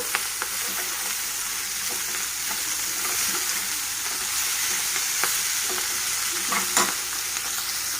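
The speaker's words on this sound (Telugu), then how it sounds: "దాంట్లోకి మనం సన్నగా తరిగి పెట్టుకున్న ఆనియన్స్ని యాడ్ చేసేద్దాం చూడండి ఆనియన్స్ వేసాక బాగా కలుపుకుందాం" Thinly sliced onions sizzling and frying in a pan with broad beans as they are stirred, a steady loud crackle with intermittent scraping from the spoon, no voices.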